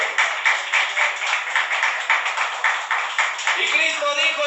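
A church congregation in Trujillo, Peru, claps in a steady, even rhythm of quick repeated claps, with voices rising over it toward the end.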